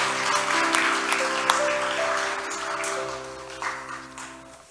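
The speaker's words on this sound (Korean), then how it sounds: "우리 하나님께 영광의 박수를 드리겠습니다." A church congregation claps in applause during a Sunday service, moderately loud and fading, over a sustained organ or keyboard chord.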